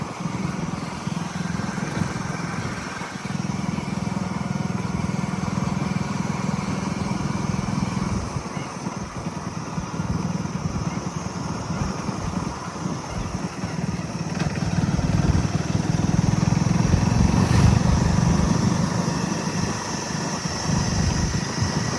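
A motorcycle engine drones steadily throughout while riding slowly along a canal, with wind rushing past the microphone and the engine swelling louder near the end.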